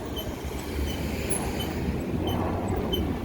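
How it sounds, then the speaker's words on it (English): Squealing wheel of a Kawasaki Z1000 electric motorcycle on a ride past a McDonald's, a thin high-pitched squeak repeating steadily over a broad rumble of road and wind noise. "Listen to my wheel just squeaking away."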